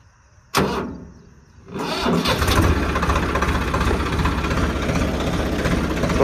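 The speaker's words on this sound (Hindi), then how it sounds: "हाई में चल रहा था ये ट्रैक्टर, हाई में लगाया है उन्होंने।" A Swaraj 855 4x4 tractor, working with a cultivator, starts up after a sharp knock and then runs in a steady, loud, close-up rumble with no talk over it.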